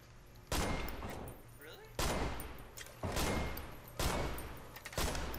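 Gunfire in the hunting game Deer Hunter 1944: five loud, sharp shots spaced roughly a second apart, each with a long booming decay, over a low steady background hum.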